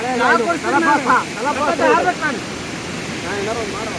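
A waterfall roars as a loud, continuous broadband rush close by, while people talk over it for much of the time.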